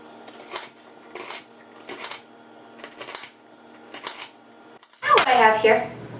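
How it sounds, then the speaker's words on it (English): Chef's knife dicing an onion into cubes on a board, a series of rhythmic crisp chopping bursts, close and fairly loud, followed by a person beginning to speak. "Finally, we're going to cut it into little cubes."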